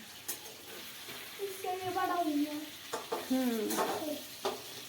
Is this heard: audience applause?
no